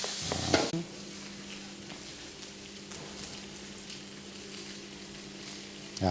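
Garlic and onions frying in butter in a pan make a steady, moderate sizzle, with an initial clatter of stirring and occasional faint crackles over a low, even hum; no voices.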